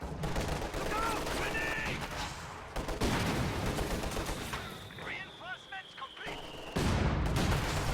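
A mortar bombardment in a WWII strategy game, with dense gunfire, machine-gun bursts and heavy booming impacts rolling on without pause, while a commentator talks over the battle.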